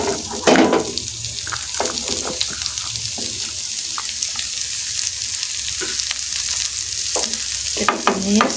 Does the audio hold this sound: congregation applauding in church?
no